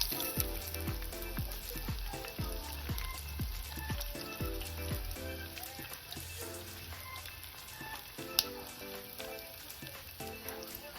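Chicken frying in hot oil, giving a steady, close sizzle that runs through the whole stretch, with a few louder crackles and some faint tonal sound behind it.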